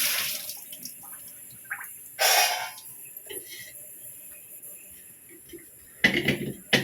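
Yam being washed in water in a village kitchen, with short splashes and sloshing bursts separated by quiet pauses and small drips, close by.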